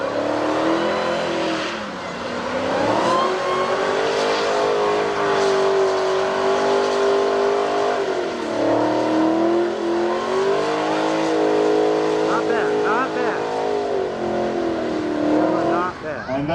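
Dodge engine revving hard and continuously at a burnout contest during the Chrysler Nationals in Carlisle, Pennsylvania, a loud sustained roar with rising and falling pitch, with crowd noise and voices underneath.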